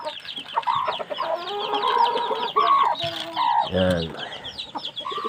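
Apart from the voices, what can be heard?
pet chickens clucking at feeding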